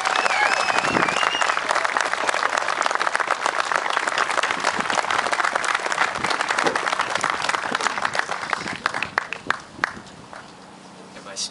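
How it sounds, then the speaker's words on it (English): A crowd at an event gives a sustained round of applause, dense clapping that fills the space and tapers off toward the end, with faint talk in the room. "I'm going to ask you to please give him a loud round of applause."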